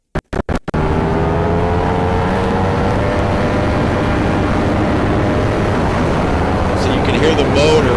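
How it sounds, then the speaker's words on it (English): A motorcycle engine plays back from a recording as a steady, fairly loud drone after a few sharp clicks at the start, continuing without talk. "Hear the motor,"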